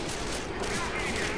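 Gunfire in Left 4 Dead 2: rapid, steady bursts of shots hammering continuously at moderate level, with a voice faintly present underneath.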